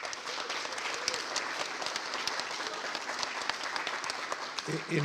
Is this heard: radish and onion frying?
no